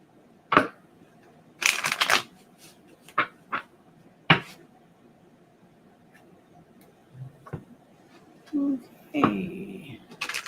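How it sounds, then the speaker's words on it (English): Card shuffling with an old, roughly 40-year-old deck: several short crisp riffles and snaps spread across the stretch, fairly close, with quiet pauses between bursts and a soft rustle near the end. "This deck is so old it doesn't know how to not shuffle."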